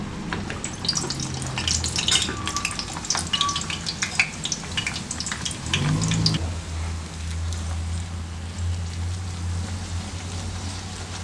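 Parotta frying in hot oil, with a steady bubbling sizzle and crackle up close that shifts after about six seconds into a lower, smoother hiss over a kitchen hum.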